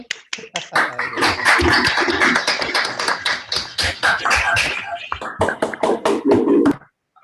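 Remote audience at an online talk on big data and matrices, unmuting their microphones to clap together: dense, uneven clapping from many people through several mics, steady for about seven seconds before stopping abruptly.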